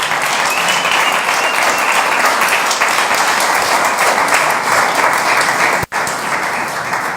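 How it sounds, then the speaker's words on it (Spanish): Loud, sustained applause from a church service congregation, dense and steady, with a brief sharp dropout near the end before the clapping resumes. "Démosle un aplauso a nuestros jóvenes en esta oportunidad"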